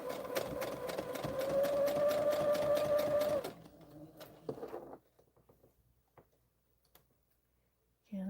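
A home sewing machine stitches through fabric with a steady, close whirring hum for about three seconds, then stops. Quieter handling clicks and rustles follow before a short burst returns at the very end.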